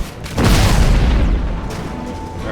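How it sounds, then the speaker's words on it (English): A loud explosion in Crysis Remastered bursts in with a heavy low boom about half a second in. A rumbling tail follows and slowly fades over the next two seconds. "Let's test out some explosion effects here."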